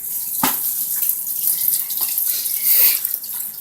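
Tap water runs steadily over rabbit meat being washed in a sink, a close, continuous splashing flow with a few brief louder splashes and no talk.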